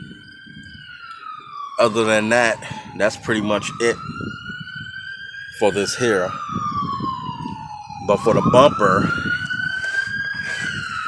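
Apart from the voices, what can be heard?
police sirens passing outside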